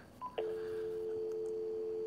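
An old landline home phone gives a brief tone and a sharp click, then settles into a steady, unbroken tone held to the end, quiet and close with no talking.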